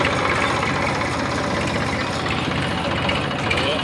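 A tractor engine idles steadily, a continuous low rumble with a dense mechanical texture that holds at an even level throughout.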